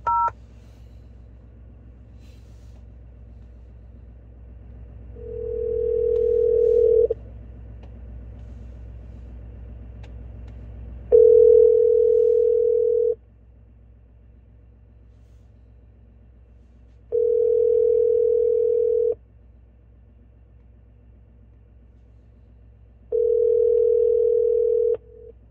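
Steady telephone keypad tones on a dispatch phone line, sounding as several sustained beeps of about one to two seconds each, spaced a few seconds apart over a low rumbling background, with no voices.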